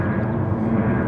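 An airplane passing over the centre of Porto, heard as a steady, broad low rumbling roar with no breaks, fairly loud and constant.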